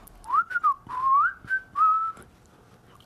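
A person whistles a short, uneven melody of rising and sliding notes in a few quick phrases, close and clear, with no talk over it.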